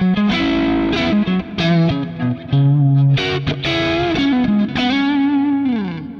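A thick, gritty electric guitar with a P90 pickup at full volume, played loud with distortion, picking out single notes and bends in a short phrase, with no talking.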